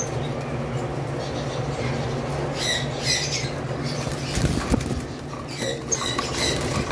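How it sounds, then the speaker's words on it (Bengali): Frightened caged parrots and cockatiels kept on a balcony squawk in short harsh bursts and flap about, with rustling and rattling of the cage near the middle, over a steady background hum. "আসলে খুব বেশি দাপড়াদাপড়ি করতেছে, কারণ এই পাখিগুলো বারান্দায় রাখা, ওরা বেশি একটা মানুষ দেখে না, যার কারণে খুব ভয়টা বেশি পাচ্ছে।"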